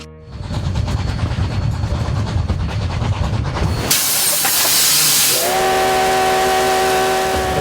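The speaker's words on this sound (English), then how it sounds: "A coal-fired steam train rumbles through the wide-open prairie of the American West" A coal-fired steam train on a narrow-gauge railroad chuffs rhythmically up close, then bursts into a loud hiss of steam followed by a sustained whistle.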